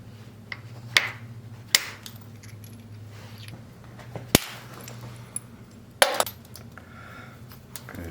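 Flintknapping strikes thinning and shaping a stone biface, a handful of sharp, isolated clicks and cracks spaced irregularly over a low steady hum, close and with no talking.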